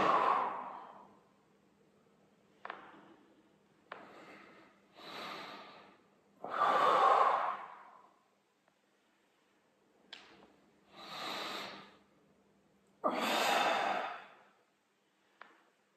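Slow, deep breaths during a musculoskeletal gymnastics exercise session: several long inhales and exhales, some with a soft breathy push, separated by quiet pauses, close and clear with no talk.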